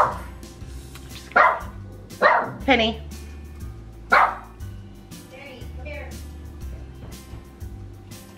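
A dog barks several times in short bursts, fairly close, with pauses between barks; a voice says a single word, and softer yips follow over low hum.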